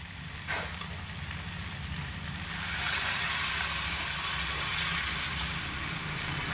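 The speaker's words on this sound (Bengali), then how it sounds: "এই মতো অবস্থায় আমি এর মধ্যে পরিমাণ মতো জল দিয়ে দেব।" Water is added to spiced potatoes frying for a home-style vegetarian aloo dum, and a louder steady sizzle and hiss swells up midway and stays high, with no talking.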